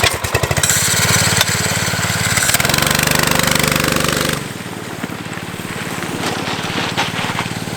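A homemade power wheels go-kart running on its first test, giving a loud, rough mechanical motor drone with rapid pulsing that shifts pitch midway and then settles to a lower, steadier hum.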